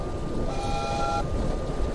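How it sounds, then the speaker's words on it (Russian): A train passing in the game White Shadows, a steady rumble with a faint tonal horn-like whistle that sounds briefly and then cuts off. "Там едет какой-то поезд."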